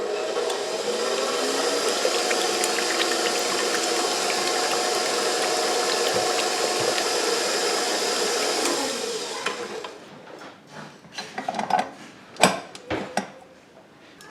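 A stand mixer with a paddle attachment churns crescent roll dough in a steady, close motor drone for about nine seconds, then shuts off, followed by a few scattered clunks and knocks.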